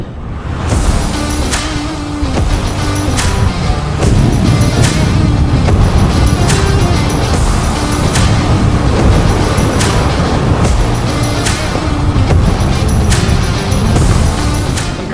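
Cars passing a cyclist on a road, revving their engines hard, make a loud, continuous engine roar that fills the whole stretch with little break, mixed with rushing wind noise.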